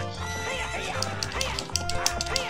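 A horse in The Legend of Zelda: Ocarina of Time Master Quest whinnies clearly over looping game music, with hoof clip-clops and other game sounds mixed in.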